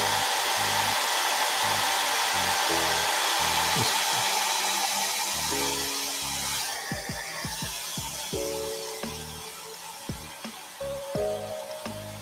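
A hair dryer blows steadily to dry weathering paint on a model, its constant broadband roar staying loud throughout, with some low-pitched tonal sounds underneath.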